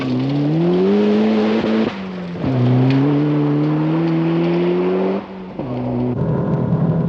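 A rally car in the 1991 Mazda Winter Rally is driven hard over stones and dirt: a loud, close engine climbs in pitch through gears, drops briefly at shifts, then revs up again, with gravel crunch beneath.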